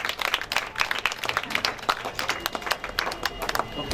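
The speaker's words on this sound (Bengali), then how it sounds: "জোরে একটি করতালি" Scattered clapping from an audience at a school hostel party, patchy and uneven rather than a full ovation, mixed with crowd murmur and voices.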